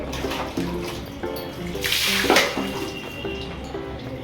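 A child splashing and stirring water with the hands, likely in a bath, a continuous sloshing with a louder surge of splashes midway, close by.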